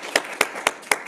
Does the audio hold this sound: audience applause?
yes